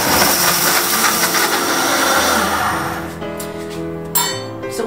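A kitchen blender runs loudly, whirring oats, water and a pinch of salt into oat milk; the motor drone shifts and slows toward the end, followed by a light clink.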